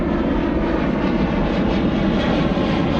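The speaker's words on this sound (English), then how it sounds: "final departure off 2-3 right is this Ryanair now" A Ryanair jet departing runway 23R at Manchester Airport at night sends out a loud, sustained low engine roar, dense and unbroken across the whole stretch.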